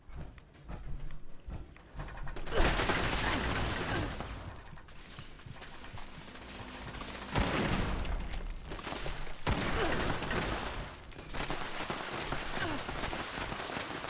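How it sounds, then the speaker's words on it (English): Turrets exploding during combat in the video game Fallout 76, a loud, dense crackling barrage with bursts of rattling debris and sustained blast noise, swelling at several points. "Realize it's exploding turrets."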